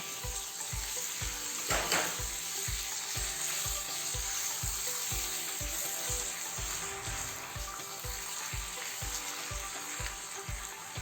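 Tomato and spinach puree sizzles steadily in a hot pan while a spoon stirs it in a regular scraping rhythm of strokes, the frying hiss continuous and close throughout with no talk.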